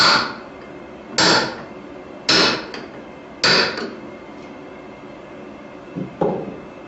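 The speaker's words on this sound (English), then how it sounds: "Take my 1-inch pipe, my hammer. I'm going to set the lock ring so it holds the cylinder in place." Five sharp metallic hammer taps on a 1-inch pipe setting a lock ring onto a Haworth Improv office chair gas cylinder, struck close by at irregular intervals of about a second, with a faint ringing after each blow and no talking.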